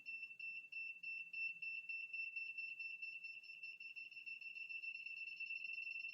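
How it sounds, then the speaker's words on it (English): An HC-SR04 ultrasonic distance sensor's electronic buzzer beeps continuously in a rapid, steady stream of high-pitched tones, quickening as an object approaches, with faint background noise underneath. "As it gets closer, you can hear that the frequency of the beep is increasing."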